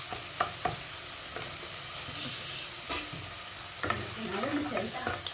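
Shrimp frying in a pan, giving a steady close sizzle with hiss and intermittent stirring scrapes and clicks throughout, no talking.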